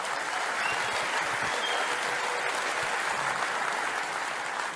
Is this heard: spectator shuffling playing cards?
no